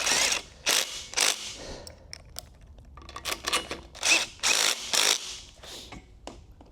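Ratchet clicking in short bursts as bolts are snugged down on a motorcycle mock-up in a workshop, several quick ratcheting runs separated by brief pauses, close and fairly loud with no talking.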